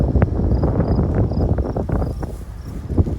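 Gusty wind buffets the microphone in loud rumbling bursts at a campsite, with faint high chirps of insects in the background.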